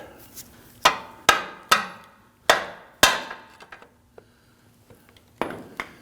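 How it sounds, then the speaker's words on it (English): A pry bar is struck to bump the front CV axle out of the transmission on a 2010-2019 Ford Taurus. About six sharp, ringing metallic knocks come in an uneven rhythm, each decaying quickly, with a few lighter taps between them. "Now the pry bar is going to go right between the axle and the transmission. And you're literally going to just bump it out."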